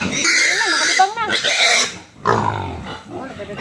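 Grunts and oinks from a pig of about 75 kilos on a farm, loud and close, coming in repeated rough bursts with a short pause midway as people talk nearby.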